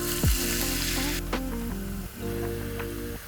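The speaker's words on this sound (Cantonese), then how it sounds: "先炒香個江魚仔" Dried anchovies stir-fry in a hot wok with a steady close sizzle, a scrape of the spatula near the start and a few faint clinks, with no talking.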